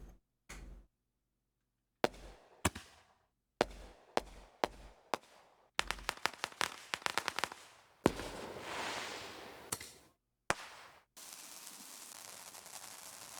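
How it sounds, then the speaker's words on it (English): Fourth of July percussion fireworks, a string of sharp separate bangs with pauses, then a rapid burst of cracks, followed by the sustained hissing crackle of a ground fountain firework throwing a shower of sparks. "So I have these fireworks sounds that I recorded on the 4th of July actually this year."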